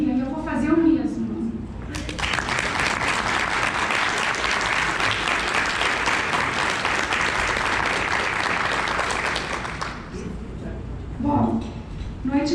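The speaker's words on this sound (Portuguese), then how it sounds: "E começou pedindo um aplauso para Miriam, e eu vou fazer o mesmo" Audience applause at a book launch and autograph evening, dense sustained clapping from a seated crowd lasting about eight seconds, with a voice speaking Portuguese before and after it.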